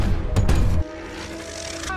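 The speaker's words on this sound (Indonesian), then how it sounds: "Yang pada akhirnya meriam itu pun ditembakkan ke arah mereka semua." A cannon fires in an animated kung fu panda film: a loud, booming blast rolls for nearly a second, then cuts away to quieter tonal score and lighter effects.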